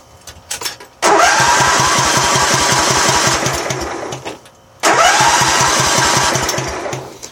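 A Craftsman Racer lawn tractor engine cranks over in two long bursts, each a loud, rapid, rhythmic churning from the starter that winds down without the engine catching, separated by a brief pause.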